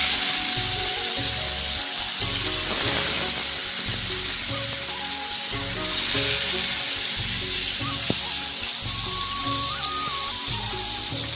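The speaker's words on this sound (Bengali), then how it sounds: "আমি এখানে প্যানে তেল দিয়ে দিয়েছি, এখন বেগুন ভাজাগুলো বানিয়ে নেব।" Eggplant frying in oil in a pan gives a steady sizzle and hiss throughout, with a rhythmic musical backing running underneath.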